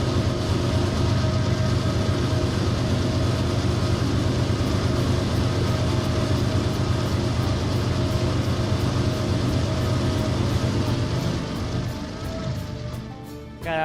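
A CSX freight train rolls along the rails in the Trainz simulator, a steady dense rumble with faint rhythmic clicking over most of its length that thins out near the end.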